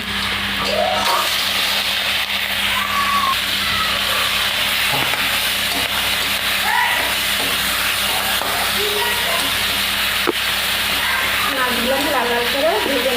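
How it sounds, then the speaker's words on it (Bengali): Prawns fry in hot oil in a wok, giving a loud, continuous sizzle that holds steady throughout, with faint voices now and then beneath it. "এবার মাছগুলো ভেজে নেব।"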